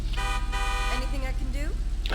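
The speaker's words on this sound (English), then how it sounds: "I gotta press the horn to go back in here" A car horn sounds continuously in GTA 5 while someone talks over it, the steady tone holding for a couple of seconds.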